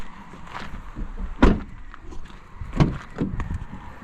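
Front door of a 2025 Ram 3500 Big Horn pickup being worked, with a couple of solid thuds about a second apart against quiet background rustle, close by.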